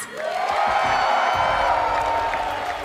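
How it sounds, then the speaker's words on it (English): A large esports arena audience at a CS:GO semifinal preshow, DreamHack Masters Dallas 2019, gives a sustained roar of cheering and whooping that swells quickly and holds at full volume, broad and echoing, with no clear speech over it. "And the arena is not yet full, but as you can hear, they're in fine throat today"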